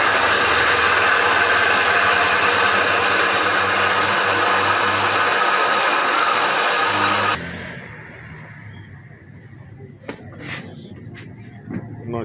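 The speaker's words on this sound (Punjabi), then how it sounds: "ਇਹਨੂੰ ਅਸੀਂ ਬੰਦ ਕਰਕੇ ਚਲਾਉਣੇ ਆ" A soap-making machine mixing herbal soap ingredients runs with a loud, steady whirring drone, then cuts off abruptly, leaving a quieter room with a few scattered clanks and knocks.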